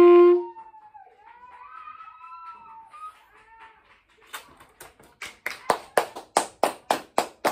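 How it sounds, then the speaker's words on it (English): A few people clap hands in a steady, increasingly loud rhythm of about a dozen sharp claps, following some soft wavering woodwind notes. "Why are we clapping?"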